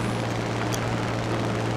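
A fighter plane's engine in a dogfighting game, running overheated at reduced power, drones steadily as a loud, continuous low roar with no pauses.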